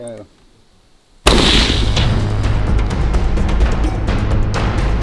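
A single loud, sharp gunshot fired at a LEGO target cracks after a brief quiet moment, followed by a long booming echo and rumble that fills the space.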